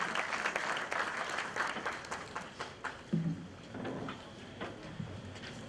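Audience applause for a distinguished lecturer at a lecture on leadership and security, a scattered patter of clapping that thins and tapers, with a few louder claps and brief voices in the hall.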